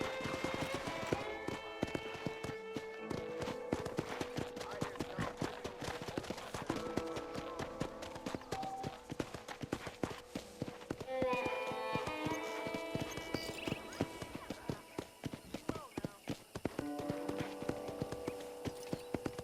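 Horse hooves clip-clop in a steady rhythm in the Red Dead Redemption video game on Xbox, a continuous clopping gait heard over tonal game music throughout.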